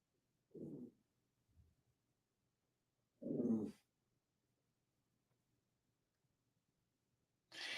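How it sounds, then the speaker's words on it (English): A single dog gives a few short, separate barks with long quiet gaps between them, close and moderately loud in an otherwise still room. "Ray, enough barking now."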